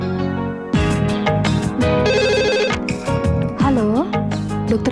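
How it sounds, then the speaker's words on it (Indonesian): Telephone ringing in a musical TV drama, a bright ring that rises out of a loud song backing, with the music carrying on around it. "ada telepon?"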